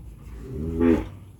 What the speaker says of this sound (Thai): วัวแล้วเห็นไหม